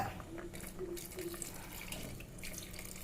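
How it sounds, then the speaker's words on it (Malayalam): Water splashes and trickles steadily into a cooking pot of clam curry, a soft continuous pouring sound with faint clinks in the background. "ഈ വെള്ളം മേലേന്ന് ഇങ്ങനെ ഒഴിച്ചു കൊടുക്കുക"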